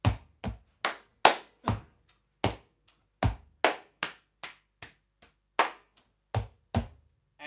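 Body percussion claps and slaps in a steady, rhythmic pattern, some strokes louder and some softer, close and dry with brief gaps between groups and no voices.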